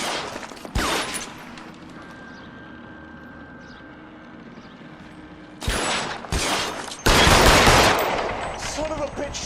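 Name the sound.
gunfire in shootout, from video game L.A. Noire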